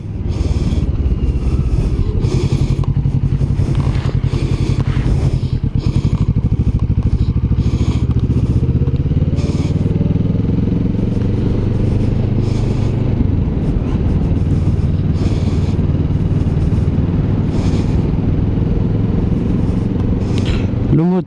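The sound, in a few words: Kawasaki Vulcan S 2021 motorcycle engine running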